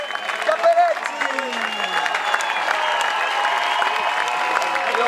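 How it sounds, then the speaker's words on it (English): Spectators applaud the doubles winners at the final of a men's ITF tennis tournament, a steady outdoor clapping that swells early and then holds level, with a voice murmuring beneath it. "Et on peut les applaudir"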